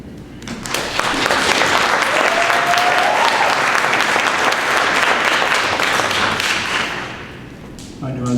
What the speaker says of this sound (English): I knew I was going to get that kind of applause.